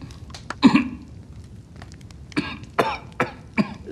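A man coughing repeatedly nearby, several short, harsh, throaty coughs with irregular spacing, one early and a cluster near the end, with no talk between them.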